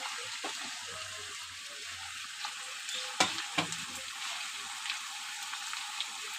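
Potatoes sizzle and crackle steadily in hot oil in a pan, with a few sharper pops and stirring clatters partway through, close and fairly loud, with no talking.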